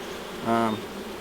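A single bee buzzes loudly past close by at an open honey bee hive, a short rising-and-falling drone over the softer background hum of the colony.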